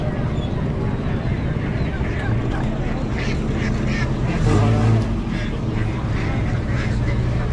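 Ducks quack a few times amid a busy poultry market in Astaneh Ashrafiyeh, Gilan, Iran, with people talking nearby and steady low noise underneath.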